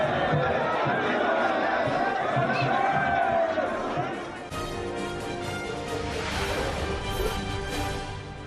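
A large crowd of pilgrims on the Char Dham walking route, a dense continuous hubbub of many voices and movement, loud and close, with a shift in the mix partway through.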